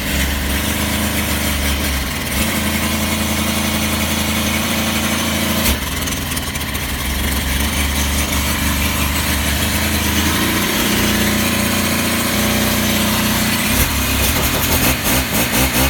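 A Stihl engine with a priming fault runs after being choked and started, a loud, close, continuous buzzing idle with slight shifts in pitch and roughness throughout.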